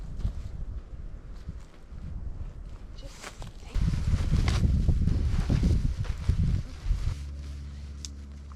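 Wind gusts across a campsite at Cheaha State Park, a rumbling, buffeting roar against the microphone that swells midway and then eases, with some rustling.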